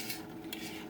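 A spoon stirs homemade cranberry sauce in a pot on the stove for canning, giving a steady close scraping and soft clinking of utensil against metal, with no voices.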